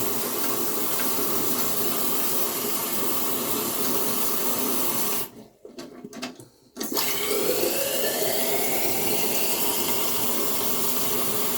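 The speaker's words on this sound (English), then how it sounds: "you can adjust how much water you want to come into the tank by turning this knob" A toilet tank with a dual flush handle refills with water in a steady loud hiss and rush, broken briefly by a short drop as the fill valve is adjusted, then resumes hissing.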